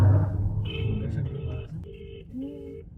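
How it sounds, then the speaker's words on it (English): A phone line rings out while a call is being placed to someone, a series of steady electronic tones in short bursts, with voices talking underneath. "Should we call Madhuri then"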